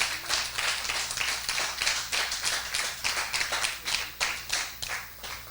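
A church congregation claps steadily together for about five seconds, a dense, even wash of hands with slight rhythmic pulsing and no voices over it.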